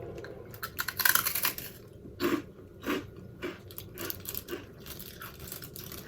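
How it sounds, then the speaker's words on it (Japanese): Someone bites into a crunchy, individually wrapped Japanese rice cracker (senbei) and chews it, producing a loud snapping crunch followed by a series of softer, irregular crunches close to the ear, with no talking. "こんな感じのおせんべいです。 食べます。"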